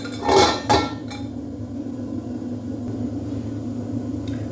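A lid goes onto a cooking pot of taro stems with two quick metallic clanks close together, followed by a low, steady kitchen hum and a faint tick near the end.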